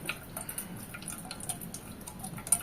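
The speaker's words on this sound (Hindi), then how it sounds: "तेमती करी देखा थे एप्पल पेस्ट टा भल भाबरे छानी नेबे।" Juice dripping from ground apple paste being strained, quick light drips and small ticking splashes at an uneven rhythm, close and fairly quiet, with no talking.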